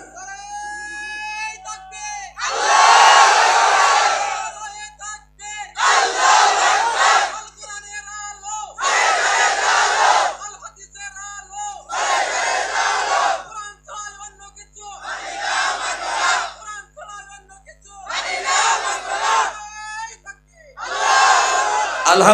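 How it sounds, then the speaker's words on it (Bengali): A large crowd at a Bangla Islamic sermon gathering shouts the takbir in loud, unified bursts, about seven rhythmic roars separated by a lone voice leading each call, echoing through an amplified outdoor setting. "দেন একটা মজবুত তাকবীর দেন।"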